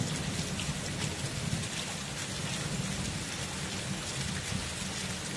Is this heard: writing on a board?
no